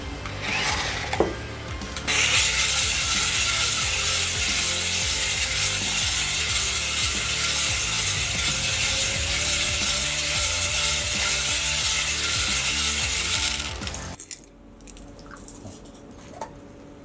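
A HuiNa toy RC cement mixer dispensing candy turns for about twelve seconds, a steady grinding, rattling churn with small pieces tumbling inside, then stops abruptly, leaving a few faint clicks.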